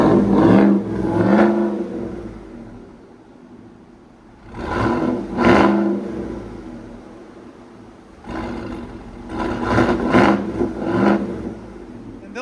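2019 Cadillac Escalade with a 6.2L V8 and a Corsa Sport cat-back exhaust, revved three times in loud, close, deep roaring bursts, each settling back to a rumbling idle.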